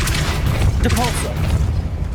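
Depulso force spell cast in Hogwarts Legacy: a low, booming push over a steady rumble of game sound, with a brief tonal flourish midway.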